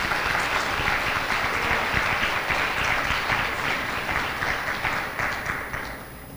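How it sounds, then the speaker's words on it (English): A crowd applauds award recipients at a high school senior honors program, sustained and even clapping from a large audience throughout, fairly loud and continuous without a break. "do me the solid of joining me in one more round of applause for these individuals for receiving these awards"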